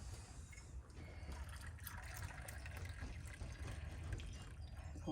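Hot boiling water poured over a homemade grain bread dough mixture in a bowl makes a steady, soft, close liquid rush that continues without a break.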